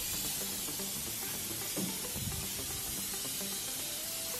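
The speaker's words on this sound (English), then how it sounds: "Biggie, here's a hot tip about oil. You need to remember to spray it the right way." Cooking oil spraying from an aerosol can while a breakfast burger is made at home, a steady broadband hiss running throughout, fairly loud and close, with faint kitchen clatter beneath.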